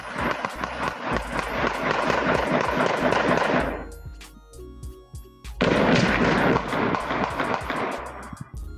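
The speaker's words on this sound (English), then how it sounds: "More than 40 gunshots can be heard" Street surveillance camera recording a Friday evening shooting on a city avenue: two long, loud barrages of dozens of rapid gunshots, separated by a brief lull with scattered shots, then continuing before tapering off.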